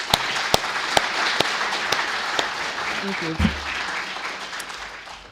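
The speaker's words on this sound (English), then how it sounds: "So please, short applause." Brief applause from a seminar audience in an auditorium after a keynote speech: scattered, crisp claps spread across a few seconds, with someone briefly speaking partway through.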